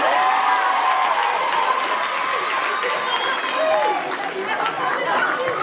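A crowd at a stage performance applauds and cheers steadily and loudly, with many voices chattering and calling out through the clapping.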